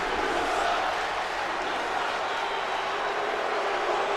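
A roaring arena crowd in the WWE 2K25 wrestling video game, a dense steady wash of cheering that holds evenly for the whole stretch without breaks.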